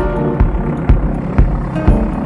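A video game airplane engine drones steadily throughout, loud and close, with rhythmic whooshing pulses recurring about every half second.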